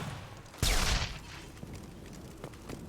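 Short loud volley of gunfire in Mass Effect 2, a sharp burst lasting under half a second that decays into quieter background ambience with a couple of faint later pops.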